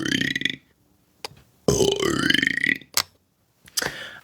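Several loud, close burps in a London street setting, a long gurgling one in the middle flanked by shorter bursts, with brief pauses of quiet between them.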